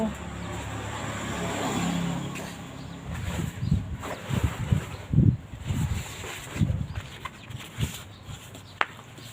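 A sewing machine runs in a steady low hum as it stitches a curved seam in fabric. The hum is loudest at the start, followed by irregular bursts of handling and voices talking nearby.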